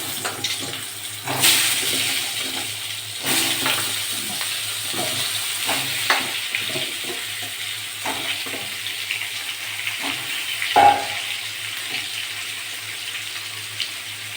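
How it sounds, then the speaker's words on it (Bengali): Potatoes fry in hot oil in a pan while a fish curry is being cooked, giving a steady close sizzle broken by occasional clinks and scraping from a utensil. "এবার আলুগুলো ভেজে দেবো"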